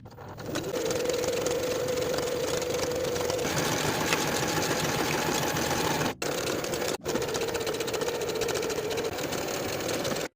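A sewing machine stitches jersey knit seams in a steady, fast mechanical whir up close, with two brief pauses between runs of stitching.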